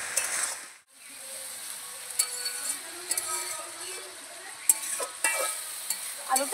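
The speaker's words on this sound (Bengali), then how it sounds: "ভালো করে নাড়াবো।" Cabbage with potato being stirred in a pan for a vegetarian Bengali ghonto, a steady soft sizzle with scraping spoon strokes and occasional light clinks, close and moderately loud with no talking.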